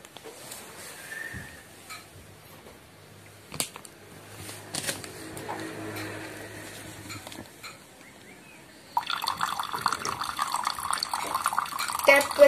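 Water pours from the tap of a card-operated water tank machine at a science exhibition, starting abruptly after a quiet stretch with small clicks and handling noises, then running steadily at moderate level until the end.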